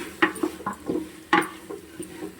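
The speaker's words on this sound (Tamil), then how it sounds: "கத்திரிக்காய் நல்லா வதங்கிடுச்சு" Brinjal sautéing in a pan with tamarind water, a soft simmering sizzle under several sharp spoon-on-pan stirring clinks and scrapes, close and fairly quiet.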